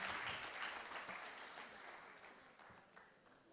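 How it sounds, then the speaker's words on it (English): Audience applause at a women's awards ceremony in Gambia, a dense wash of clapping that starts strong and gradually thins over a few seconds, with no voices over it. "Ladies and gentlemen, a round of applause for Miss Awa Guy."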